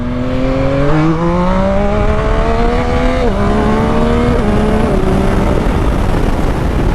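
Motorcycle accelerating hard in first gear for a wheelie, a loud continuous engine roar whose pitch climbs and dips as the throttle is worked, with no talk.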